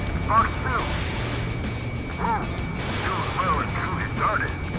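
Explosions ring out in the combat flight game Ace Combat 7: Skies Unknown during a pipeline destruction mission. Several crashing blasts land at irregular intervals over a constant background rumble, along with radio-style voice chatter.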